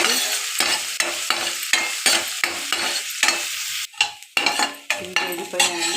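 Curry leaves and green chili frying in oil for cauliflower 65: a strong close sizzle broken by a regular series of scraping stirring strokes, then louder clattering bursts near the end, no talking.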